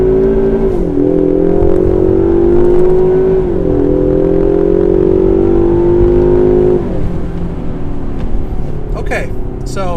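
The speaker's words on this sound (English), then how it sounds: "Give this car a push. You hit the rumble." A 2020 Ford Mustang Convertible in Sport Plus mode pulls hard from first gear, the engine note climbing steadily through two upshifts with a loud, rumbling drone that eases off near the end.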